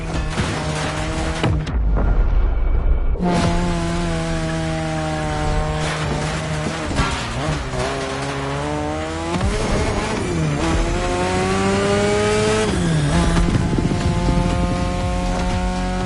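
Racing cars drifting through sharp turns in a video game, a loud engine drone with rising and falling revs and whining tire squeal, steady throughout.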